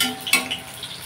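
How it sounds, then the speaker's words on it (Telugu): Onions with a little masala frying in a pan for an omelette curry, giving a soft, low sizzle with a brief louder stirring scrape near the start, close and fairly quiet, no talk. "ఆ ఉల్లిగడ్డలు కాలుతా ఉన్నాయి, కొంచెం మసాలా వేసాను కదా."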